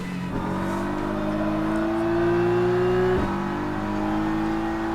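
GT3 race car engine at Laguna Seca in rFactor 2, a sustained steady drone that climbs gradually in pitch, then drops sharply with a gear change and continues rising, moderately loud and unbroken, no speech.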